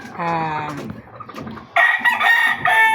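A gamefowl rooster crows loudly nearby at a hot-weather game yard, one long crow followed by a second burst from another bird, with clucking between and no talk.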